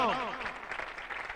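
A church congregation claps to welcome Pastor Khalid Shaheen to the sermon, a spread-out patter of applause rising just after a voice fades, continuing steadily at moderate loudness.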